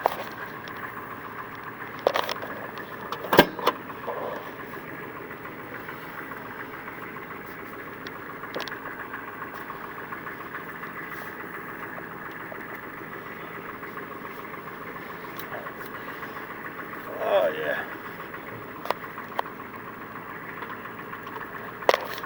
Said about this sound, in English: let's go ahead and move this here truck around.